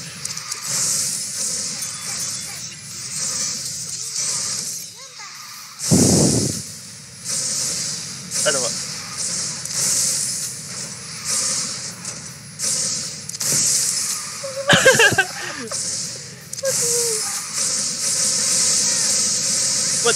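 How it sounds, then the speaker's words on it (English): Bullet train roaring past during a QQ Speed Mobile racing game, a loud hissing whoosh that swells and fades through the race audio, with brief voice bursts around it. "Bullet train."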